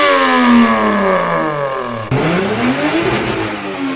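A Toyota Supra turbo car roars past in a loud, close flyby, its engine pitch sliding downward as it passes, then a burst of exhaust and turbo noise as it pulls away.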